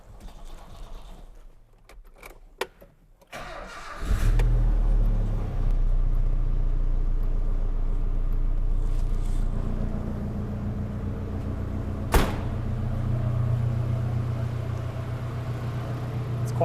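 A turbocharged car engine cranks, catches and settles into a steady, deep idle rumble close by, with one sharp clank partway through.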